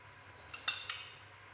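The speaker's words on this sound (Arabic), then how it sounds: "بعدها راح نضيف 6 ملاعق تاع الزيت" A metal spoon clinks a few times against a bowl while spoonfuls of oil go into cake batter for a lemon six-spoon cake. Two or three faint, close taps sit over a quiet background.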